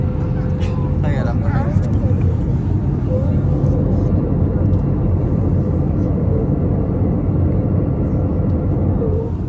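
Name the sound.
airplane engine noise in flight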